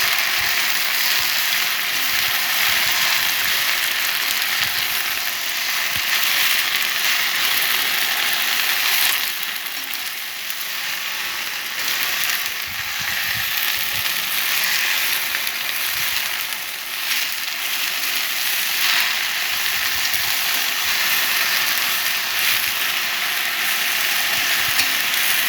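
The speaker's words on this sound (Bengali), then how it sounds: "খুন্তি দিয়ে নেড়ে চেড়ে নেব।" A spatula stirs and scrapes food frying in a pan, with a bright continuous sizzle and intermittent scraping strokes close by, going on steadily without speech.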